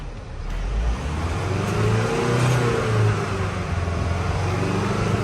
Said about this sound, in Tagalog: Sobrang tahimik na makina at ito ay 6 speed